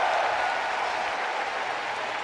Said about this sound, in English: You could hear the crowd love when her name was called